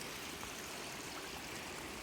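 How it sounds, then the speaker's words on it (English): River flowing over rocks along the Appalachian Trail, a steady broadband rush of water, continuous and fairly close with no voices. "This nice river flowing."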